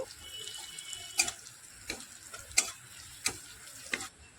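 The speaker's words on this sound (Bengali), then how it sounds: "মশলাগুলো একটু হালকা করে নাড়াচাড়া করে নেব" Ground coriander and turmeric sizzling as they are stirred in a pan, a soft continuous fry punctuated by several sharp scrapes of a spoon against the metal at irregular intervals.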